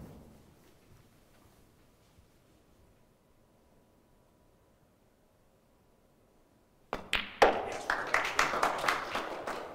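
Snooker crowd at the European Snooker Championships men's semi-final bursts into applause after a near silence of about seven seconds. Sharp, loud clapping begins suddenly and carries on with uneven surges until the end.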